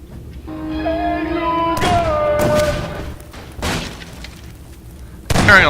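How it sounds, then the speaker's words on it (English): In a video game, heavy thumps and booming explosions punch through a steady tonal backdrop, with sharp bursts of gunshots and a final loud splintering crash of breaking wood near the end. "Hearing a lot of explosions and shots and what sounds like wood breaking."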